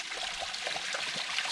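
Small stepped waterfalls trickle down a mountain trail stream at Grindstone Gap on the Sawtooth Trail, a steady close wash of running water with soft bubbling pulses and no voices.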